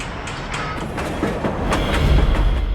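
A cold slide test locomotive runs on new track in southwest Beijing, its wheels giving steady rhythmic clacks over a loud rolling rumble that grows slightly louder as it passes close by.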